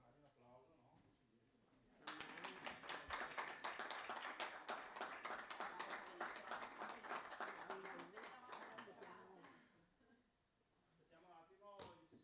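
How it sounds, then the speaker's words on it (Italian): Applause at an Italian municipal council meeting, a long burst of many hands clapping in a room that swells suddenly, holds steady for several seconds and then fades, with a few voices heard before and after. "Un applauso, no?"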